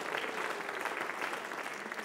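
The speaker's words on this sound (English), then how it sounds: "Give the Lord a clap offering" A church congregation claps together in steady, dense applause, a bright rapid patter of many hands filling the space without a break.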